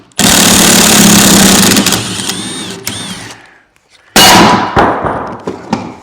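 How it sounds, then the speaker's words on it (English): A puller works a pulley off a very large alternator, first a loud grinding, rattling stretch, then a pause and a sharp metallic clang as the pulley comes free, followed by a few smaller clinks. "I set up this puller."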